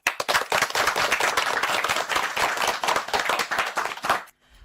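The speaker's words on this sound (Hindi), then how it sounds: "जोरदार तालियां।" Children and an audience at a radio-station children's gathering clap loudly after a group song, a brisk burst of many hands that stops abruptly near the end.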